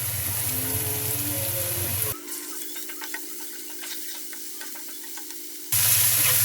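A paste of ginger, cumin, ground coriander and garlic fries with onions in a pan, making a steady hissing sizzle with light scraping stir ticks, interrupted midway by an abrupt quieter stretch before the sizzle returns.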